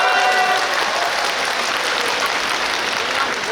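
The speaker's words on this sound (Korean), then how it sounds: "여러분 큰 박수 부탁드립니다" A large audience at a Busan International Film Festival open talk for the film Exit claps in a dense, sustained burst of applause that fills the space evenly from start to finish.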